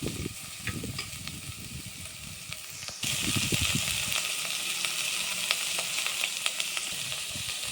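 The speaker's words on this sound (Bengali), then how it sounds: "এখন আমি এগুলোকে ভালো করে ভেজে নেব, সুন্দর করে ভেজে নেব" Pieces of tender young goat meat sizzle and hiss in hot oil in a pan, a steady frying crackle with sharp pops and a brief stirring scrape, rising in intensity partway through.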